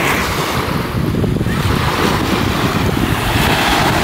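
Steady surf rolls in on a Lake Michigan beach, a loud continuous wash of waves mixed with heavy wind buffeting the microphone throughout, with no voices.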